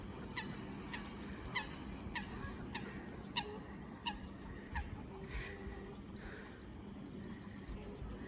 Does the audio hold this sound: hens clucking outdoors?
yes